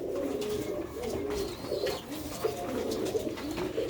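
Young pigeons of an old Sialkoti breed coo softly in a loft, low rolling calls overlapping under steady background noise, with occasional faint chirps.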